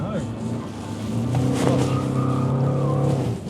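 A car fitted with M Performance brakes spins its wheels and drifts on private property, with a rough roaring engine and tire noise throughout, while people talk over it.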